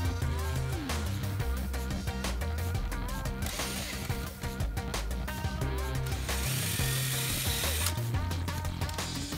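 A ratchet tool backing a stuck screw out of an antique water heater during restoration, heard as continuous dense clicking and mechanical rattling, loud and close, with no talk.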